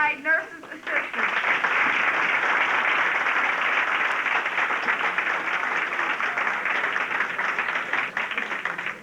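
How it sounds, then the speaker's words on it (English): Sustained, loud audience applause fills the hall at a 1986 vocational training center graduation ceremony in St. Louis, steady clapping for about nine seconds after a brief opening. "Let's give a big round of applause to certified nurses assistants."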